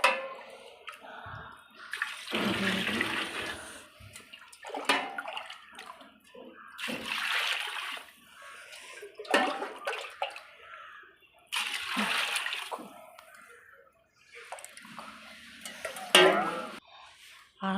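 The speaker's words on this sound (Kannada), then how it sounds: "ಇವಾಗ ನೀರು ಹಾಕ್ತಾಯಿದ್ದೀನಿ." Water is poured jug by jug into a large pot for chicken rice, giving repeated splashing, gushing bursts separated by short pauses, fairly soft and close.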